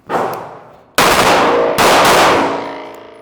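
A Staccato HD pistol fires rapidly at close range, each loud sharp report ringing out in a quick burst of shots, with no talking.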